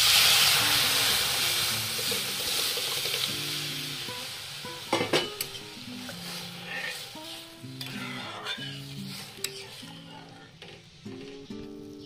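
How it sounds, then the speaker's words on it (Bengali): Dal tipped into a lightly reddened spice paste frying in a home kitchen pan, with steady sizzling and hiss under repeated stirring scrapes and a few sharp clinks of utensil on pan, continuous and close. "পেস্টটা আমরা অল্প লাল হয়ে এসে এখন এটাতে ডালটা দিয়ে দিই।"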